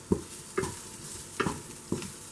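Spiced bitter gourd pieces being mixed in a frying pan, five evenly spaced scraping stirs over a soft background sizzle, close and moderately loud.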